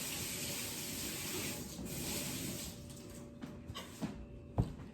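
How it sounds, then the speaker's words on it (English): Running water rinses hands at a kitchen sink during candy-making, a steady soft hiss of flow that thins out and gives way to a few small clunks and splashes near the end. "Rinse my hands off here."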